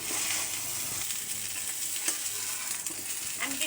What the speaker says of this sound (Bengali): আমি কিন্তু এই যে ফ্রাই প্যানে পটলগুলো ভেজে নিচ্ছি।